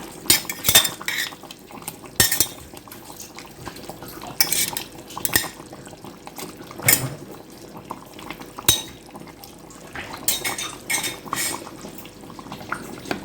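Okra and meat stirred together in a metal pot for an Egyptian stew, with repeated clinks and scrapes of a utensil against the pot over a soft simmer, fairly close and continuous with no talk.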